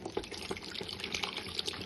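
Tamarind pulp water is poured into cooked dal while making Telangana-style pappucharu, a steady soft liquid splash and trickle heard up close and fairly quiet, with no talking.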